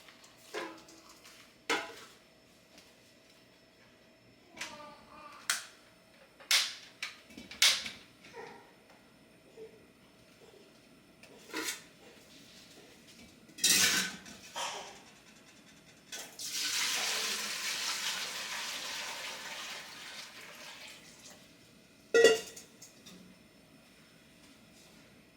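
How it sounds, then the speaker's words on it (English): Water from a tap gushes steadily into a cooking pot for several seconds, framed by scattered clanks and knocks of the pot and kitchen items in a quiet room. "we will pour the 16 cups of water into this pot here"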